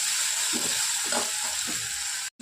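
Onion softening in a pan with ginger-garlic paste sizzles steadily as it is stirred, a few soft scraping strokes rising over the constant frying hiss, with a brief drop near the end.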